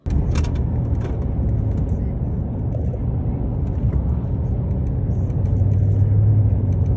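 A 2023 Cadillac Escalade V large luxury SUV driving fast: a loud, steady engine and road rumble heard from inside the cabin, with a brief voice near the start.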